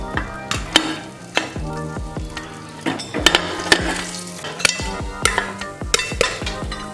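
Popcorn kernels popping in a pot on the stove while being stirred, with scattered sharp pops and knocks over a steady sizzle, sounding close.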